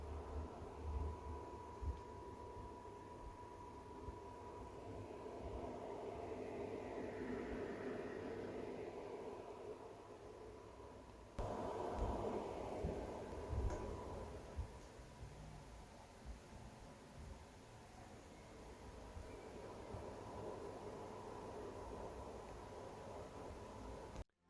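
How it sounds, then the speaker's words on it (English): A be quiet! Shadow Rock Slim 2 CPU cooler fan runs through its full RPM range, a soft airy whoosh that rises and shifts in pitch, drops back, then climbs again, faint and steady with no talk. "here is a quick audio sample that goes through the whole RPM range of the fan."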